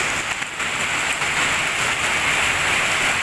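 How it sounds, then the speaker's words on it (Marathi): A steady downpour of heavy monsoon rain in Kerala, loud and unbroken, drumming on surfaces nearby such as shop tiles. "भरपूर असा मोठा पाऊस"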